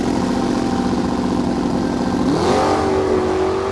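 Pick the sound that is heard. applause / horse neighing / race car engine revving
race car engine revving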